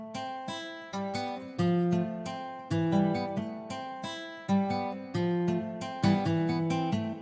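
African-style guitar melody from a Kontakt instrument in FL Studio, playing bright plucked notes and chords in a steady, loping rhythm, clean and upfront with no voice.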